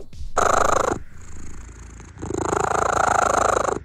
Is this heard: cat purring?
yes